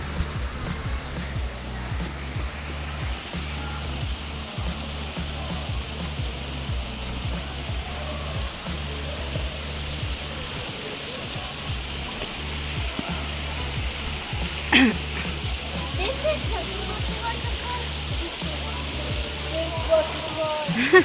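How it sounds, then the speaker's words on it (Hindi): Steady broadband rush of a waterfall beside a trail in Jibhi, a continuous natural roar that holds at an even level throughout, with a brief louder splash or knock near the middle. "आसपास झरने की आवाज़, बिल्कुल नेचुरल"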